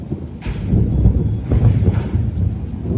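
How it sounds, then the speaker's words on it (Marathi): Low, rumbling thunder rolls beneath a steady wash of rain noise, loud and close, with no voices. "कडकडते बघा"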